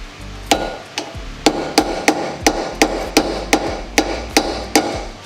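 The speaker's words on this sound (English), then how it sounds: "you'll just want to punch so the nut that goes on these has a little divot" A hammer strikes a punch to dent a divot into a nut on a Miata drift angle kit, about a dozen sharp metallic blows in a fairly steady rhythm, loud and close, with no talk.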